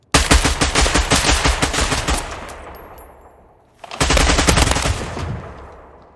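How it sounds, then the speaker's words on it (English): Suppressed rifles in a S.T.A.L.K.E.R. game mod fire two loud, rapid automatic bursts that each fade out, with a short gap between them. "So all of the mercenaries are running suppressed rifles."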